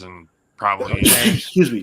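A single sharp sneeze bursts out right after a brief spoken phrase, followed by a short murmured apology in the same voice.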